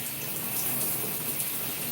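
Water running steadily through long 4c natural hair during a wash, a continuous close hiss and splash of tap flow with no pauses and no talking.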